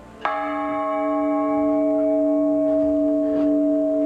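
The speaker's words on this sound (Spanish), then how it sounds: "La de 1675 es la campana macho y la otra la campana hembra." A single church bell in San Pedro de Huancayre, cast in 1675, strikes once and its deep, ringing tone hangs on steadily, humming and slowly fading as it resonates.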